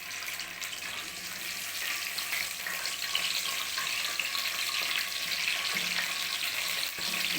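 Gram flour and semolina hitting melted ghee in a pan for besan-suji halwa, giving a steady, close, continuous sizzle with a faint stirring texture and no talking.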